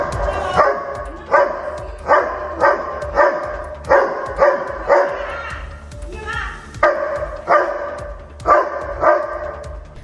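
A pet dog barks at a snake in a home garden with loud, close, repeated barks in a steady rhythm roughly every second, with one short whimpering yip midway.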